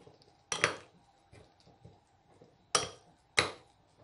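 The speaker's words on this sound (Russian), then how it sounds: "Перемешиваем." A spoon stirs a honey mixture in a bowl, the honey first melted if thick. A few sharp, quiet clinks against the bowl sound in isolated strokes over near silence.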